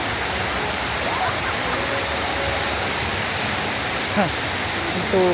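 Water rushes in a steady broadband roar, with faint voices and brief sounds breaking through near the end.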